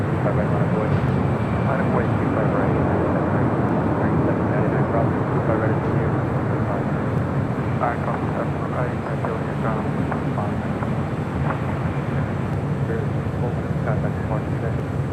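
Spirit Airlines A321 jet departing LAX, a continuous loud engine roar rumbling evenly throughout with faint voices underneath.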